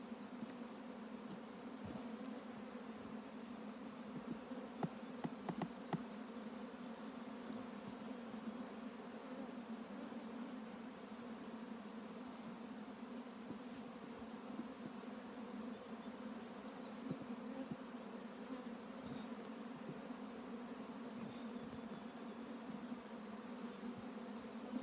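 Bees hum in a steady, dense drone from an opened colony as the hive is worked through, unbroken for the whole span, with faint occasional ticks and knocks over the buzzing.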